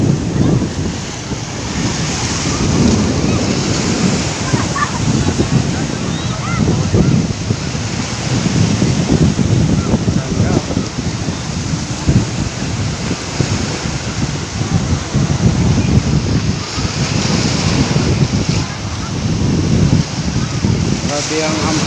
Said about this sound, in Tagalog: Grabe ang hampas ng alon